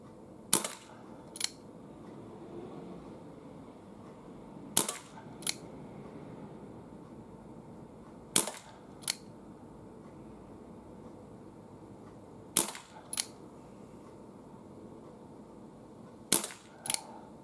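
A Webley .22 police revolver fires at targets 12.5 metres away, five sharp, crisp shots spaced about four seconds apart, each followed by a quieter click, against a low background hum.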